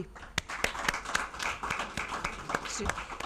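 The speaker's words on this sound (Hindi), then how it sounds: "तालियां रुकनी नहीं चाहिए" Applause at a students' award ceremony in a hall: many hands clapping in irregular sharp bursts, moderately loud, with a voice talking over the clapping.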